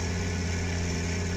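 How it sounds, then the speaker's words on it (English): A John Deere 6630 tractor in Farming Simulator 2013 runs after start-up, giving a loud, even diesel idle with a deep steady hum and no change or talk across the short stretch. "This is what it sounds like when you start the engine up"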